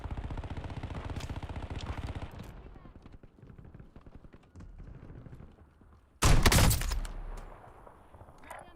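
Video game gunfire opens with a fast rattling volley under a talking voice, fades to quieter shots, then a single loud sniper rifle crack bursts out near the end.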